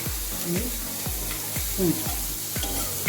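Cinnamon added to chopped onions frying in a pan for a Maharashtrian black peas usal, giving a steady close sizzle with repeated scraping stir strokes at a regular rhythm.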